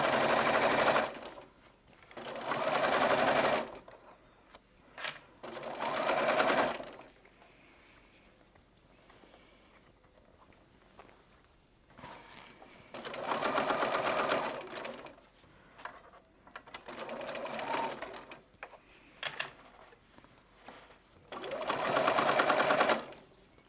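A sewing machine stitches a seam slowly in several separate runs of steady mechanical whirring, each a few seconds long, with quiet pauses between them and no speech.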